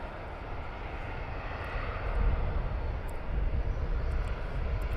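An EasyJet jet at Luton Airport gives a loud, continuous engine roar that swells slightly midway and holds steady, with no voices over it.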